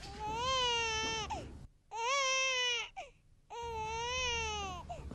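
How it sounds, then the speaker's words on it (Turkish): A young infant cries in loud, drawn-out wails, three long cries with short breaks between them, close and clear with no other voices. "Sizin bebek ağlaması duyuyor musunuz çocuklar?"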